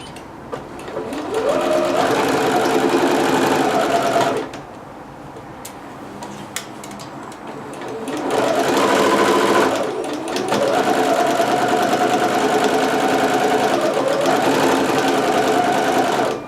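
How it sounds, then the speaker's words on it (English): A sewing machine stitches a dress seam on a McCall's M6701 dress pattern in three rapid, whirring bursts, each a few seconds long, separated by short pauses. "now I'm going to sew this 5/8 from the notch all the way down to the bottom."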